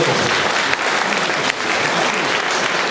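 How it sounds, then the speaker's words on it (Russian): Audience applause fills a concert hall: dense, steady clapping from many people, loud and continuous for the whole stretch. "Давайте аплодисменты."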